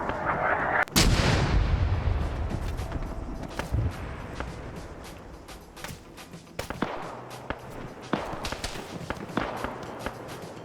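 Mortar and artillery fire in an OFCRA PvP video game match, with a big booming blast followed by scattered distant explosions and crackling gunshots that echo irregularly throughout.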